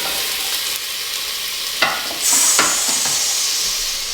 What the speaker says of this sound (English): And then we just fry that out.